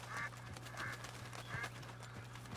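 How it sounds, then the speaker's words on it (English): Wild ducks quack a few times at a distance outdoors, in short faint calls spread over a steady low background hum. "Some ducks."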